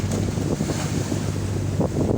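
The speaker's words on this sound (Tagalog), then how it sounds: "May hangin kapatid. Hangin." Strong wind from an approaching typhoon buffets the microphone at sea with a low rumble over the wash of waves and a boat engine hum, no talking.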